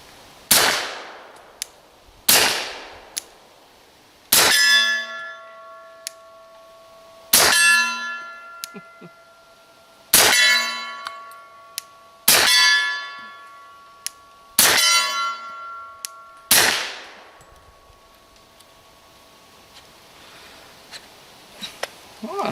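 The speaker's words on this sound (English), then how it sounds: "can you hear the contrast between the report from the muzzle and when it hits that" Subsonic .45 pistol rounds are fired at a steel target: a series of sharp shots, each followed by a bright metallic ring that hangs and fades, spaced a few seconds apart, fairly close.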